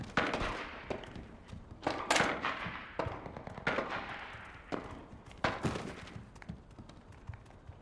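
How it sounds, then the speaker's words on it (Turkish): Repeated sharp gunshot bursts from the mobile survival shooter game CRSED Mobile, spaced irregularly over a steady noisy background, some close and loud, others softer. "Çok yakından silah sesleri geliyor ama."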